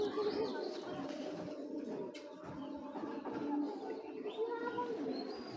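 Racing pigeons cooing, soft repeated throaty coos from several birds close by in a loft, with faint background chatter and small rustles throughout.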